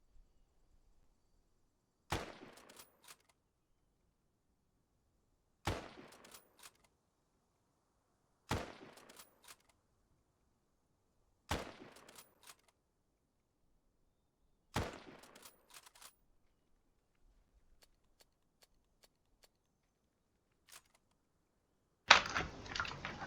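Five sharp shots from a scoped Lee Enfield rifle crack out one at a time at even intervals of about three seconds in Arma 3, each followed by brief bolt clicks. A louder burst of noise comes at the very end.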